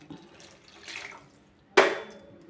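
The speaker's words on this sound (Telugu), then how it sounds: "ఒక గ్లాసు వాటర్ పోసుకుందాం" A glass of water is poured into a simmering soya chunk curry, a sudden short splash and gush after a quiet stretch of faint liquid and handling sounds.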